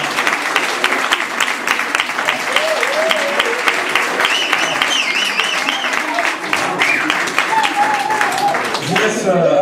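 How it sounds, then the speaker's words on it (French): Loud, sustained audience applause welcoming a performer to the stage for his first appearance, a thick continuous roar of clapping with voices and cheers mixed through it. "On va applaudir Aurélien qui va venir pour la première fois."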